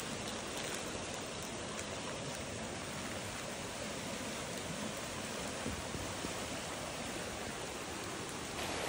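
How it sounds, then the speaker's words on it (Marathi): Heavy monsoon rain pours without pause over floodwater in a village, a dense, loud and even roar of falling water that fills the whole scene with no voices. "पाऊस काय थांबाचं नाव घेत नाही"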